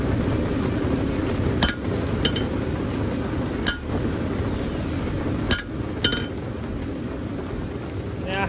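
Hammer blows on a railroad spike resting on an anvil while a knife is forged, several sharp metallic strikes at irregular intervals over a steady background roar, fairly close.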